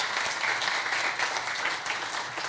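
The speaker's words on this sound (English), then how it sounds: "Give yourself a round of applause." Audience at a Black History Month opening event applauding, a dense, even wash of many hands clapping that holds steady throughout, filling the room.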